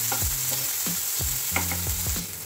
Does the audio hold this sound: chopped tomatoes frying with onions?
yes